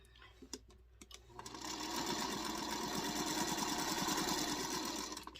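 A sewing machine chain piecing quilt blocks starts after a few soft clicks and runs steadily at close range with a fast, even mechanical whir for several seconds before stopping.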